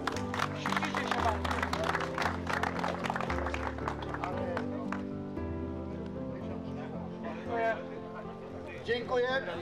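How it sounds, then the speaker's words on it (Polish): A crowd applauds at an angling tournament award ceremony, a dense patter of clapping mixed with music and a voice talking over it. "Wielkie brawa!"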